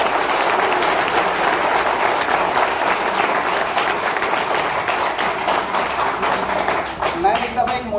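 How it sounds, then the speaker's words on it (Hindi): Loud, dense clapping from a lecture audience at Comsats Lahore goes on steadily for several seconds, then tapers into scattered individual claps at the close. "ये जो ताली भी बजा रहे दोबारा बजाओ यार अच्छे तरीके से।"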